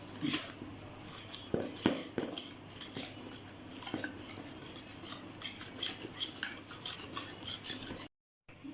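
A spoon stirs salt and chili into chicken for Lahori charga, with soft clinks and scrapes against the bowl in an irregular rhythm, close and fairly quiet, ending in a brief cut to silence.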